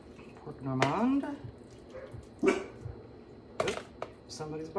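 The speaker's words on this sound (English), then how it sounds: "Somebody's barking outside." A dog barks outside in a few separate sharp yelps and bow-wows at moderate distance, spaced irregularly over quiet kitchen background.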